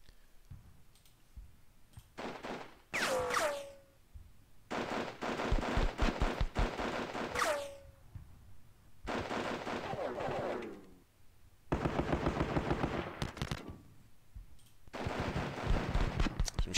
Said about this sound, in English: Some shootouts here in the woods.